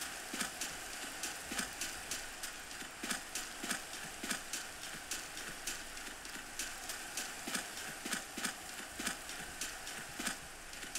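Horse hooves clip-clop in a steady trotting rhythm in the Minecraft game with the TerraFirmaCraft mod, faint and even, continuing without speech for the whole stretch.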